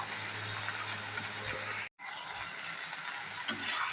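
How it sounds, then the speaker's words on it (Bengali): Kitchen exhaust fan running while vegetables cook: a steady, broad mechanical whir that carries through the whole stretch with one very brief dropout, with no talking. "একটু ইগনোর করো এক্সস্টের আওয়াজটা"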